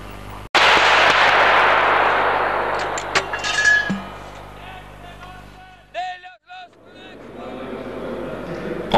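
An artillery gun fires during an Estonian artillery group exercise: one sudden, very loud blast followed by a long, fading rumble. Faint voices and small clinks are heard afterward.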